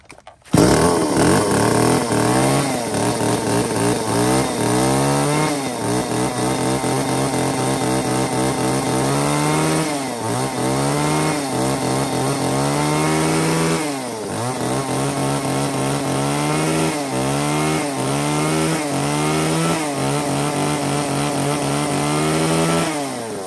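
Used Japanese chainsaw of the Stihl, Echo Kioritz, Komatsu or Shindaiwa kind, fitted with a 35 cm bar and mini chain, running loud and close with a steady two-stroke buzz and repeated revving up and down.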